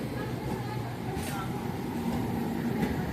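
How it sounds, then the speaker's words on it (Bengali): Kolkata–Gorakhpur Express train running on the main line between Bandel and Naihati, heard as a steady, close rumble from inside a moving train with talk over it. "এই হচ্ছে কলকাতা গোরাখপুর এক্সপ্রেস"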